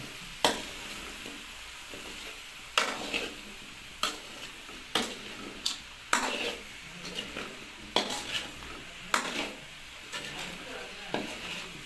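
Spiced raw banana with a splash of water is stirred and sautéed in a pan, the spatula knocking against the metal roughly every second over a steady, low sizzle.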